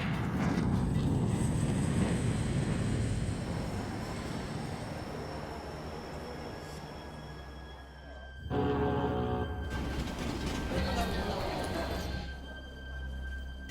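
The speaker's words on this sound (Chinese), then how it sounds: "找了一些音效，找了一些飞机、一些船、一些火车" Sound-effect layers of airplanes, boats and trains form a steady, loud roaring rumble with wind-like hiss, giving way near the end to a rattling, rhythmic rolling passage like a train passing close by.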